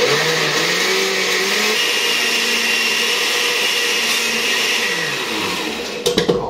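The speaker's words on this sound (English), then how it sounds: "Now that it's in the blender, we're going to blend." Kitchen blender pureeing onions, green bell peppers and garlic, a loud continuous high whir with a shifting motor pitch, then it cuts off into a few clunks near the end.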